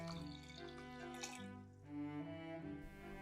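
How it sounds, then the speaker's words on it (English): Warm water poured into a container holding salt while making Japanese shio koji; a soft, continuous trickling pour at low volume over a quiet tonal background. "In a container, put some salt and then add the warm water."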